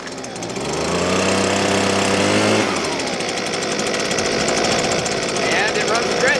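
A Husqvarna 125B handheld leaf blower's small two-stroke engine runs close by, first at a steady buzzing idle, then dropping to a rougher, lower drone.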